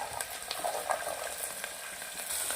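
Shelled val beans frying in hot oil with mustard seeds, cumin, garlic, green chillies and ginger-garlic paste, giving a steady close crackling sizzle with soft stirring clicks and no talk.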